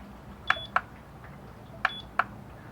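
A digital scale used to weigh copper cathodes beeps in two pairs of short, bright electronic tones, with a pause between the pairs, over faint room hiss.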